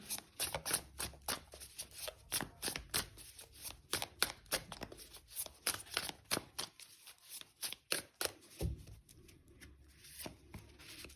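Tarot cards are shuffled and handled close up in quick riffles and soft flicks, in a busy uneven rhythm of papery snaps and slides that runs through the whole clip without speech.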